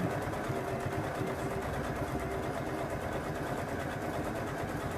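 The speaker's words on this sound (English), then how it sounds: "I'm putting the edge of the foot on that line and stitching across it." A sewing machine runs steadily, stitching across a seam of a padded, zipped bag, its motor a continuous even whir with a rapid needle rhythm and no pauses.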